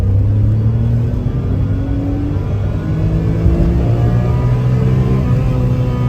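A manual, all-wheel-drive Daihatsu Move pulls hard in second gear, its small engine droning loud and steady with a rising pitch as it accelerates, heard from inside the cabin with no talking.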